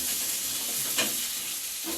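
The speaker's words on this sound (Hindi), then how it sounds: "ऐसी कढ़ाइयों में दूध उबलता है हमारे यहाँ।" Milk boils in a wide iron kadhai in a village kitchen, giving a continuous bubbling, sizzling hiss with a few soft stirring scrapes, close and steady, with no talking.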